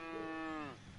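A baby calf in the farming video game Pure Farming 2018 gives a single close, clear moo. The moo is drawn out and bends downward in pitch before stopping, with a quiet background.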